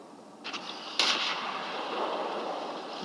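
Tank cannon fire in World of Tanks Blitz, two quick shots: a lighter crack, then a louder, sharper blast followed by a lingering rumbling hiss, with no voices.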